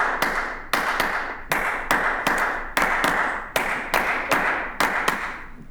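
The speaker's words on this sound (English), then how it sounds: "you guys clap a lot when you sing" Rhythmic hand clapping, about a dozen sharp, close claps in a steady pulse, each followed by a short ringing decay, with no talk over them.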